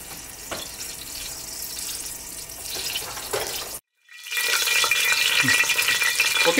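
Garlic paste hits hot oil in a pan for beef bone nehari, and a loud, steady, close sizzle breaks off for a moment, then surges back brighter and more intense, with no voices.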